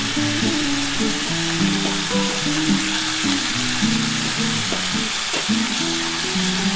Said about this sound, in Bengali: আমি এরপরে টমেটোটা দিয়ে দিলাম।